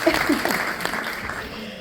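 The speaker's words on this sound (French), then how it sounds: "Oui, on peut l'applaudir" Brief applause in a French parliamentary hearing room on the mental health of minors, a soft wash of clapping from those present, moderate in level, with a voice speaking faintly over it.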